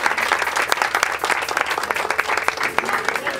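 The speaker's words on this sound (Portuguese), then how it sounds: "Le damos un aplauso a Jesús." A church congregation bursts into applause during a worship service, dense, energetic clapping that fills the whole stretch, loud and close with sharp individual claps standing out.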